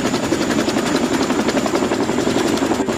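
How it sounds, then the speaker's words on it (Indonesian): Steady, loud drone of a Chinook helicopter with a dense rotor throb and engine whine, constant throughout and close overhead, with no voices. "Ini helikopter Chinook."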